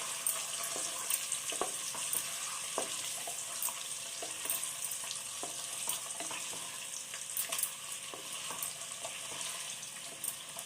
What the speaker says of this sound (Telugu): చిట్లకుండా ఫ్రై చేయాలి.